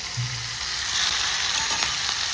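Asafoetida, curry leaves and spice paste hitting hot oil, a loud continuous close sizzle that swells slightly midway, with a brief low thump near the start and no talking.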